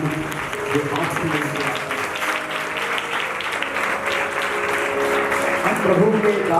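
Congregation applause during a church sermon event, sustained loud clapping filling the space with a voice speaking over it throughout.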